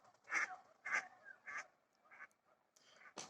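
Several wild ducks quack in short, rough bursts, about six calls spaced unevenly, fairly near and clear against a quiet background.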